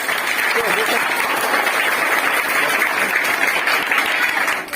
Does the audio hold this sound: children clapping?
yes